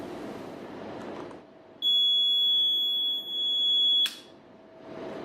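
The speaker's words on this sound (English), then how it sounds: "So there we have the auto start alarm." Grid To Go generator auto start alarm: one sustained high-pitched electronic beep lasting about two seconds with a brief dip midway, loud and steady over a quiet room hum.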